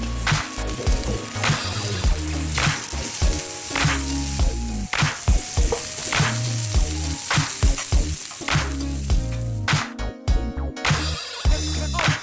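Chopped pork frying in peanut oil on a Blackstone griddle, a loud continuous sizzle broken by frequent metallic spatula scrapes and taps in an irregular rhythm, close up, with no talk.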